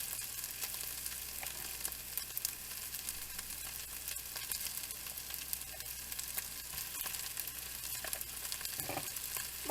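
Margarine melting in a pan as it is stirred, a soft steady sizzle with faint scraping, quiet and continuous with no voices.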